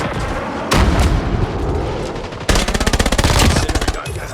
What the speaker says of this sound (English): Enemy napalm has been deployed.